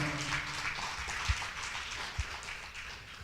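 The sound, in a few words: congregation applause in church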